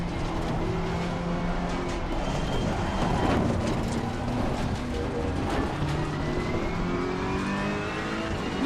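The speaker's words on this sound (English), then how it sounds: "I'm accelerating like hell through here." A GT race car in the sim racing game Assetto Corsa Competizione accelerates hard, its engine droning steadily and rising in pitch through the gears, with a brief tire squeal and a voice speaking faintly underneath.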